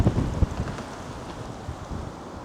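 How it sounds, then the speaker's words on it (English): Wind buffets the microphone in low rumbling gusts on a sandy coastal stretch near Hingham and Scituate, Massachusetts, strongest at the start and then settling into a steady blustery roar. "Boy, it's getting windy."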